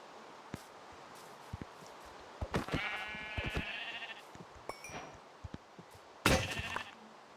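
Sheep bleat in the video game Minecraft, two or three wavering bleats at moderate distance over quiet background rustle and scattered taps, with a sharp louder burst near the end.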